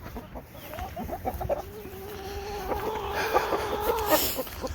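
Backyard chickens clucking near a shed, a few short calls rising over a low outdoor hum, moderately close and fairly faint, with no talk.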